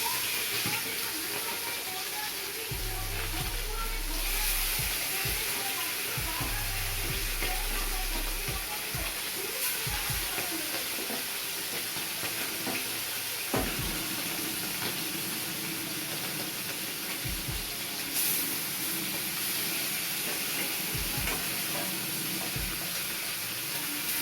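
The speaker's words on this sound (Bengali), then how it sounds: "এবার আমি মাছটাকে ভেজে নেব" Pomfret fish fries in hot oil in a wok for a mustard pomfret dish, with a constant close sizzle and hiss alongside occasional low thumps and spatula knocks spread through the long stretch.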